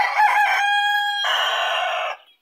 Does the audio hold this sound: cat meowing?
no